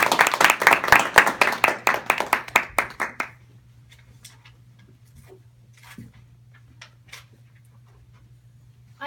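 An audience claps in welcome for a speaker at a talk, a loud burst of dense applause that thins into scattered claps and fades within a few seconds, leaving a quiet room with a steady low hum.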